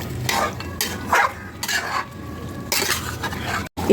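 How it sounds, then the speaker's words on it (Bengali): Chicken pieces frying and being stirred in a pan for dahi chicken, with steady sizzling broken by repeated scraping and clinking of a spoon against the pan, close by and with no talk. "মাংসটাকে এবার আমি কষিয়ে নেব।"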